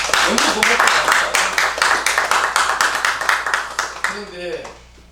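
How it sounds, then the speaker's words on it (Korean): A meeting audience claps for the press in a sustained burst of rhythmic, fairly close applause that tapers off near the end as a voice begins speaking. "저 언론들을 위해서 우리가 박수 한번 쳐줘야 돼요."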